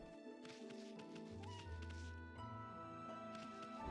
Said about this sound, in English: Did I hear a cat?